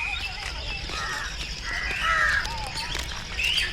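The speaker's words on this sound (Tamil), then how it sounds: "மேலே உயரமாக நிறைய பறவைகள் பறந்துட்டு போகுது." Crows caw from birds flying high overhead at sunrise on Parvathamalai, a rough, repeated series of calls at middling distance over a broad outdoor hiss, with the loudest caws near the end.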